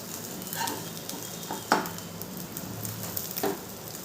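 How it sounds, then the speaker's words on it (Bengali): Spatula scraping and cutting through an egg omelette in a frying pan, with a few distinct taps of metal against the pan over a soft sizzle and no speech. "এভাবে খুন্তি দিয়ে কেটে আমি অমলেটটাকে 3 ভাগ করে নিলাম।"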